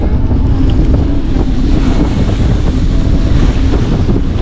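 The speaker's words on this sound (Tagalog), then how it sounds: "Lakas ang hangin guys." Strong wind buffets a small fishing boat out at sea, a loud, steady roar of gusts and water noise with continuous low rumble and no voices.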